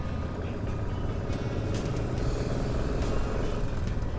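Traffic on a single-lane road: a truck and cars rumble and idle close by with steady engine noise, and a faint hiss like an air brake sounds throughout.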